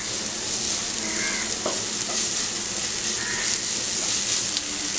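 Ginger garlic paste and tomato sautéing in a pan, a dense continuous hiss of sizzling oil with a couple of light spoon taps and scrapes, steady and close with no talk.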